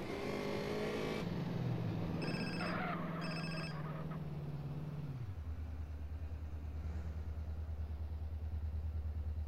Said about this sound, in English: Was that payphone that was ringing?